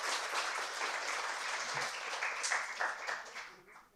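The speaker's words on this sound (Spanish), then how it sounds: "los dejo con Estefanía, recibámoslas con un aplauso y muchas gracias." An audience at a talk on Clarice Lispector applauds steadily, a dense wash of clapping that holds throughout and tapers off at the very end.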